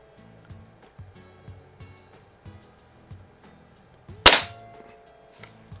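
A single sharp crack from a Crosman 760 pump air rifle, a self-cocking model, fired indoors, sudden and loud with a quick decay, set against a faint rhythmic background ticking.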